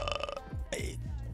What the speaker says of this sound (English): I just burped